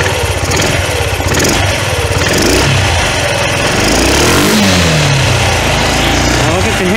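A 1993 Yamaha Riva 125 scooter engine with a carburetor problem revs loudly and steadily up close, rising and falling with the throttle, while a person talks over it.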